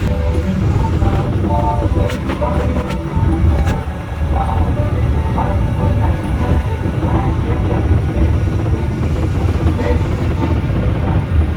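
A small powered roller coaster train at Disneyland Paris rumbles steadily along its track with a constant mechanical drone, crowd chatter and voices mixed in throughout.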